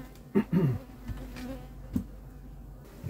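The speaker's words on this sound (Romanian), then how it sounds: "Deci acum durează, până perii eu toată albina aia." Honey bees buzz faintly around an acacia honey extraction as they are brushed off a frame, with a couple of louder close passes early on and a low, steady hum of insects underneath.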